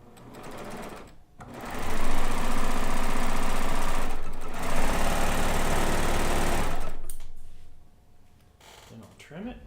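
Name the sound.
sewing machine stitching quilt border on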